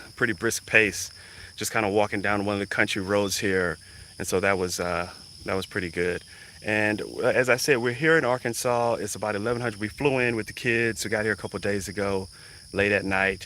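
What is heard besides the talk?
cicadas and crickets humming on an Arkansas farm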